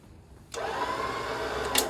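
A 10,000-pound electric winch with synthetic rope, mounted on a 1995 Land Rover Discovery, starts up and runs with a steady, fairly loud motor whine, followed by a short burst at the end.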